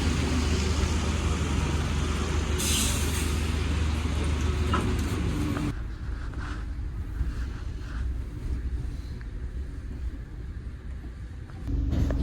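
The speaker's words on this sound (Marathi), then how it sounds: "तर आता माझी बस आलेली आहे 182" A London double-decker bus on route 182 rumbles along in a steady low engine drone with road and wind noise, a brief hiss partway through, the sound dropping slightly as it moves off.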